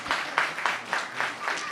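A live audience at a comedy podcast recording at the Frames Festival claps in a few evenly spaced bursts, a sparse, rhythmic and moderately quiet response.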